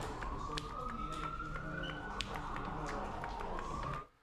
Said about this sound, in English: Sounds like an ambulance is going by.